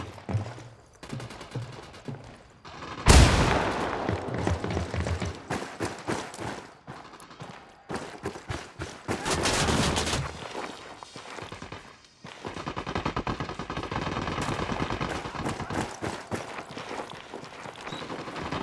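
Sustained gunfire in Ghost Recon Wildlands, with rapid automatic bursts and loud crackling volleys rolling on almost continuously, broken by only brief gaps.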